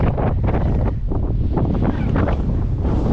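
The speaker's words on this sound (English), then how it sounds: "It's a very, very windy day." Strong wind roars and buffets the microphone in a continuous, loud rumble at Willow Beach Campground, Lake Mead, Arizona, with gusts surging and easing throughout.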